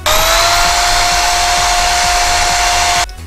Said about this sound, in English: Now just clamp them together with the notches lined up and drill through.